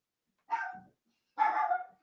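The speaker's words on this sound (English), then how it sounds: "so the dog's gonna go crazy" A dog barks twice in quick succession, each bark a short loud burst with a brief gap between, heard fairly close in an otherwise quiet room with no talking.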